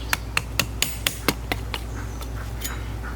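A paint scraper is struck with sharp, evenly spaced metallic taps against the lock tab on a Harley Shovelhead transmission, about eight close, crisp hits followed by a few fainter ones.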